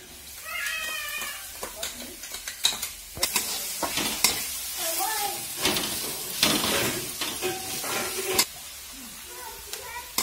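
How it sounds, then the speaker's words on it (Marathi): Onion, spring onion and green chili frying in a pan for a brinjal bharit, with a steady sizzle and repeated spatula scrapes and knocks, while a cat meows insistently nearby and voices talk in the background. "कांदा आणि कांद्याची पात पण चांगली परतली आणि आता आपली मिरची टाकून घ्यायची आहे"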